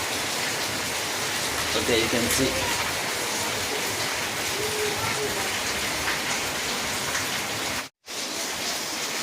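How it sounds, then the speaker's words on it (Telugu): Heavy monsoon rain in Hyderabad pours down from above near a stairway, a steady loud hiss of water. Someone speaks briefly, and the roar cuts out for a moment near the end. "ఘోరంగా వస్తుంది వాటర్ పైనుంచి"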